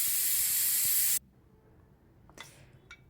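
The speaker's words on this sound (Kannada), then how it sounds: "ಒಂದು 2 ವಿಜಿಲ್ ಆಗುವಷ್ಟು ಮಟನನ್ನು ಮತ್ತೆ ಬೇಯಿಸ್ಕೊಳ್ತಾ ಇದ್ದೀನಿ" A pressure cooker cooking mutton curry vents steam in a loud, steady rushing hiss for about a second, then cuts off sharply, leaving quiet background with a couple of faint clicks.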